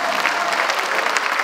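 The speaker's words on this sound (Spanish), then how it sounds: "Fuerte el aplauso para ellos." An audience at a school Teachers' Day ceremony applauding the teachers, a loud, dense and steady burst of clapping from many hands filling the hall.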